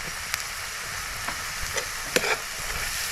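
Grated fresh coconut and coriander sauté for a banana flower bhaji, giving a steady hissing sizzle broken by a few soft stirring scrapes, close and with no talk.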